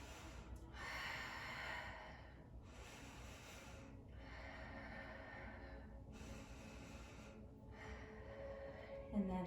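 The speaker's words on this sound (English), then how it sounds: "3 more big breaths." Slow, deep breaths during a core-strengthening yoga exercise, about four long airy inhale-exhale cycles separated by brief pauses, soft and close, with no talking.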